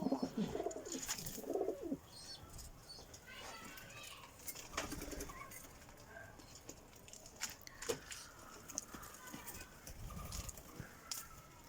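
Soft coos of Adana pigeons repeat intermittently, mixed with rustling, clicks and scattered background noise at a fairly low level during feeding.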